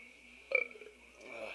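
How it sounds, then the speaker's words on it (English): A man's burp during a Modern Warfare 2 search-and-destroy gaming session, one short low belch standing out briefly over a steady background hum. "man, I'm trying to burp"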